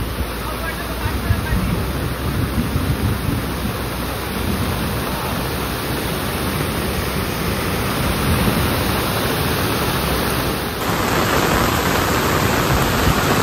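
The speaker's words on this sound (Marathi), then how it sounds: "अजून पण पाऊस का थांबाचं नाव घेत नाही" Heavy unseasonal monsoon rain pours down in Konkan as a steady, loud, unbroken roar of falling water that holds at the same level throughout.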